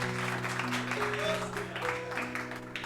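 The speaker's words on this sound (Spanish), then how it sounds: "dele palmas al Señor" A church congregation claps together for a few seconds, steady broadband clapping layered over sustained tonal music or organ-like notes in the background.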